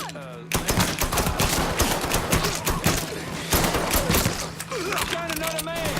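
Loud, sustained automatic gunfire in a Mafia 3 shootout, with rapid bursts of shots running almost continuously, under a steady hum and occasional shouted voices.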